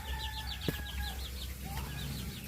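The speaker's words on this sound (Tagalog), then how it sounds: "mga sisiw, mga bagong sisiw yan" Chickens and newly hatched chicks in a backyard coop, a run of quick high peeping from the chicks over low clucking, with a faint knock, moderately close and steady throughout.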